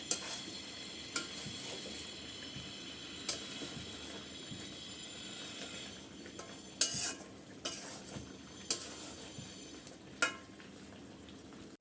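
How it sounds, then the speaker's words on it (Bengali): A spoon stirs squeezed lemon juice into a spice mix cooking in a pan for a roast. A soft sizzle sits under scraping strokes, with several sharp clinks of the spoon against the pan. "লেবু চেপে দিয়ে দিচ্ছি হালকা করে দুই চামচ পরিমাণ আর মশলার সাথে মিক্স করে নিচ্ছি"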